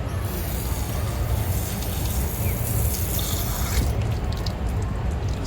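Water pours steadily from an outdoor shower, a constant full splashing rush with no pauses, fairly close and loud throughout.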